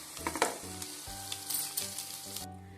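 Tomatoes fry in a pan with cumin, green chillies and garlic, giving a soft, steady sizzle with light stirring sounds, all fairly faint and without talk.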